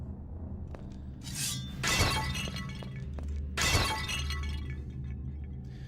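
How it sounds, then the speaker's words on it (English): Crockery smashes twice in the Brutal Wolfenstein Doom mod video game. Each sharp, loud shattering burst has a brief tinkling tail, set against a low, steady game drone. "Gotta love that smashing crockery sound effect."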